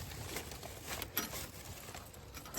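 Steady rain pattering outdoors, a dense continuous hiss of drops with small irregular taps throughout and no talk.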